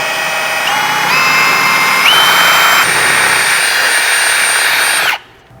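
A power drill bores holes in a van's pinch weld, a loud, close, steady whine whose pitch steps up as it runs for about five seconds before cutting off sharply.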